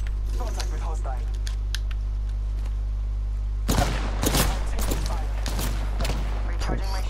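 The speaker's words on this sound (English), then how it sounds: "Opening fire on the enemy." Apex Legends gunfire crackles in sharp bursts over a constant low drone, sparse at first and then a dense rapid volley in the second half.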